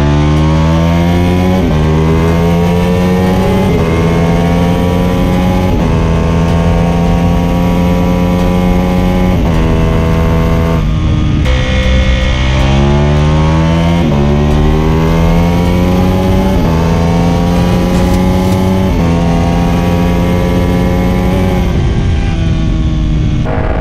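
A tuned Kawasaki ZX-10R sport bike screams hard through its short gears alongside Ducati 1299, Ducati 1199 and Yamaha R1 machines. The loud engine note rises repeatedly with quick upshifts and dips, continuous and close, with no talking.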